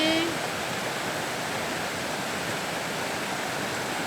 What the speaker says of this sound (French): Ce torrent derrière moi,